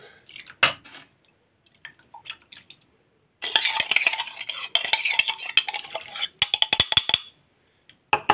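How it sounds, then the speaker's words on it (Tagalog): Spoon stirring a sugar mixture for onion pickles, a few sparse clinks and drips at first, then a busy run of wet scraping and metal tapping against the bowl, close and fairly loud, with a brief pause near the end. "I-mix lang natin para matunaw yung asukal."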